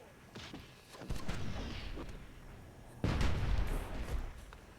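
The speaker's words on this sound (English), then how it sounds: "Some large explosions are happening." Large explosions from Myth II: Soulblighter, including Dwarven mortar fire, go off as heavy booming thuds with crackling debris amid battle noise, a couple of loud blasts standing out.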